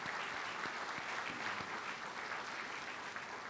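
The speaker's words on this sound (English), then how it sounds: "give them a big round of applause" A studio audience gives a round of applause for a sports TV show's behind-the-scenes crew, steady continuous clapping at moderate distance with no break.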